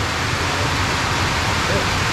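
Heavy rain pours down during a sea fishing outing, a steady, dense hiss of downpour that fills the whole clip at an even, loud level with no voices.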